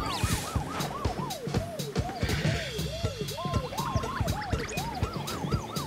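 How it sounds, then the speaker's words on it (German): An emergency vehicle siren in The Stretchers video game wails in loud, rapid rising-and-falling sweeps that repeat steadily throughout, with scattered game clatter underneath. "Mach die Sirene an."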